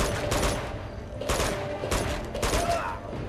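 Repeated bursts of automatic weapon fire in the Uncharted 2 shooter, three or four rattling volleys spaced about a second apart, loud and close amid combat noise.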